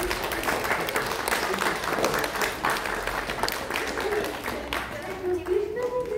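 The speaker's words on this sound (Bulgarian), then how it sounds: "Добре, още веднъж да ръкопляскаме." Children at a book presentation applaud in a steady, dense burst of clapping that carries on for several seconds, with voices mixed in among the crowd.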